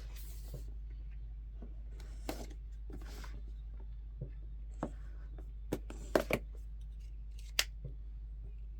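A taped cardboard box for a Disney Villainous board game is opened by cutting through its tape, giving scattered sharp snips and scrapes with quiet gaps between them, close and fairly soft.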